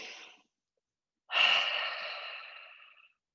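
Two breaths exhaled through the mouth in a yoga class, a short breathy tail ending first, then after a pause a long, close, airy exhale that slowly tapers off, with no voices.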